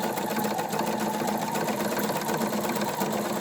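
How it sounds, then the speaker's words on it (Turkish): A sewing machine stitching a zigzag seam along the edge of a felt wallet runs continuously at a fast, even, loud mechanical rattle with no speech. "Bunu zikzakla dikiyorum ben."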